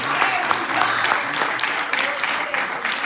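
A church congregation claps during a Spanish-language sermon, the applause moderate and somewhat distant, mixed with murmured voices and scattered exclamations.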